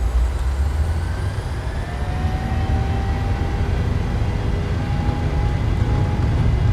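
Boeing 737 jet engines spool up to takeoff thrust in Microsoft Flight Simulator 2020, a loud steady roar with rising whine tones building as the engines hold at high power.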